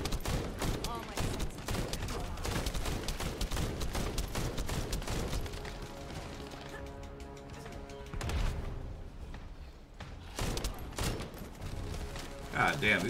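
Rapid bursts of video game gunfire crackle through a busy, loud mix, broken by short lulls and a few mechanical clicks and clunks, with a player speaking over the shooting.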